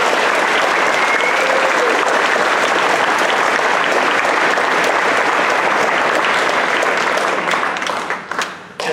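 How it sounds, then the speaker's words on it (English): Sustained, dense applause from a large crowd at a robotics season kickoff session held at a university, holding steady and loud before tapering off in the final second. "I'd love to give them a round of applause for the support they've given"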